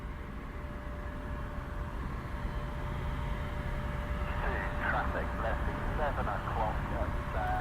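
A C-17 transport aircraft flies near RAF Mildenhall, giving a steady, broad jet roar with a thin whine running through it. A voice starts talking over it in the second half.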